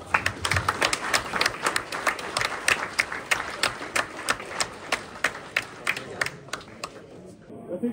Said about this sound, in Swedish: Jag tycker vi ger dem en riktigt stor applåd här nu.